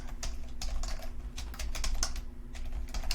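Typing on a computer keyboard, a steady run of close, crisp key clicks with short pauses over a low background hum, no voices.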